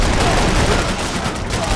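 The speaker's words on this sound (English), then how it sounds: "I can't concentrate with bullets whizzing past my head!" Dense, continuous gunfire from a Max Payne 3 firefight in a swamp, loud and sustained throughout with no break, overlapping shots forming a steady roar.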